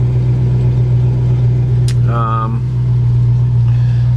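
Blower fans running inside a 1967 Ford Mustang 289 Coupe give a steady, low electric hum throughout, with a brief higher tonal squeak partway through.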